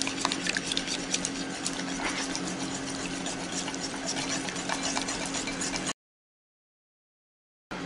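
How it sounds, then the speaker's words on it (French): A whisk scrapes and stirs briskly through melted white chocolate and cream for a macaron filling, a dense continuous patter of rapid strokes close up that cuts off abruptly near the end. "je prends maintenant le fouet, mon chocolat est bien fondu"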